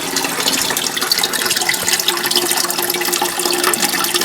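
Water rushes steadily into a toilet cistern as it refills, a loud continuous hissing gush with no voices over it.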